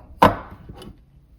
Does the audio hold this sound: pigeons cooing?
no